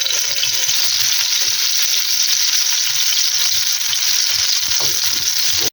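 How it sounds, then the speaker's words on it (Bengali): Pieces of katla fish fry in hot oil in a frying pan, a loud, steady crackling sizzle that runs unbroken throughout with faint low clatter beneath and no voices. "এখন মাছগুলো ভেজে নেব তেলের মধ্যে"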